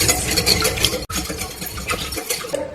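A Thai smashed cucumber salad dressing being mixed close up, a busy run of quick scraping and clinking strokes with a brief gap of near silence early on, and no speech.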